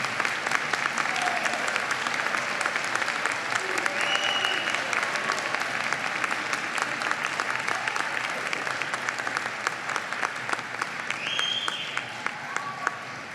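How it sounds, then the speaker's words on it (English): A large commencement audience gives sustained, dense applause for graduates' families standing at a winter graduate ceremony, steady and even throughout with faint scattered voices and whistles mixed in. "I want all the family members and friends who come here to celebrate these graduates to stand up so that people can really applaud you"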